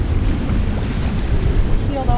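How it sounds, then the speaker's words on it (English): Steady wind roars and waves wash around a sailboat heeled over under full sail at sea with no engine running, a continuous rushing noise. "There's the wind. We got it."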